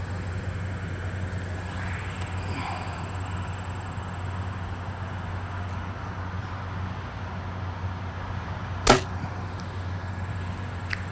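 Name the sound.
compound bow shooting arrow, Bear Whitetail INT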